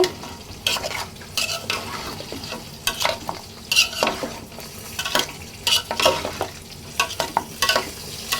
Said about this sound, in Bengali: এখন আলু আর চিকেন ভালোভাবে নেড়ে চেড়ে মিশিয়ে নেব